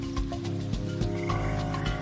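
Frogs croak in a Panama rainforest, a rhythmic chorus of repeated calls layered over a steady drone of other calling animals, fairly quiet and without speech.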